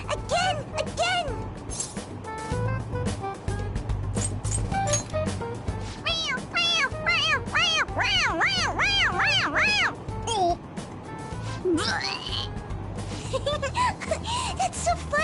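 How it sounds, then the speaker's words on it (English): In the Persona 5 Royal video game, a toy cat meows as its head is pressed, with repeated rising and falling mews over background game music and character voices. "It meows when you press on its head."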